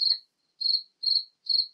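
A cricket chirps in four evenly spaced, high, clear bursts, close and isolated against silence.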